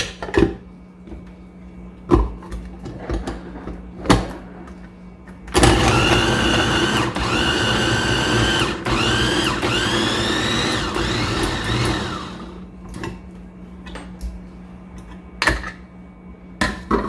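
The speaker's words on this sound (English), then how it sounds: "I'm gonna blend that with onion" A blender whirs loudly through okra and onion for about six seconds, its motor pitch rising and wavering as it chops. Scattered knocks and clatter come before and after.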